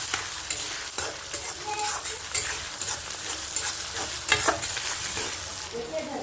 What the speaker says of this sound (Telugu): అల్లం వెల్లుల్లి పేస్ట్ వేసుకున్నాం కదా, పచ్చి వాసన పోయేంత వరకు బాగా ఫ్రై చేసేసుకోవాలి